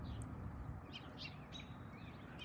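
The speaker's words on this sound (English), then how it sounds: "Most commonly in the songbirds like you're hearing" Songbirds sing in the distance, giving faint, scattered chirps and short whistled phrases over a steady low outdoor rumble and hiss, with no voices.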